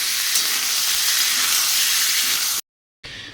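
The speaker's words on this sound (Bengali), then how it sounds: "কালো জিরা একটু ফোড়ন দিয়ে দিয়েছি তেলে, আর ফুলকপিগুলো দিয়ে দিই। সব সবজিগুলো দিয়ে একসঙ্গে ভাজতে থাকি।" A loud, even sizzle comes from cauliflower and mixed vegetables frying in hot oil tempered with black cumin seeds. It breaks off abruptly near the end, then resumes.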